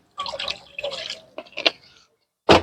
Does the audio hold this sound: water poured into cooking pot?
yes